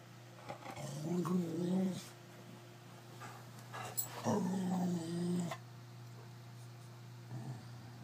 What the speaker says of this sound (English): dog is growling at something in my room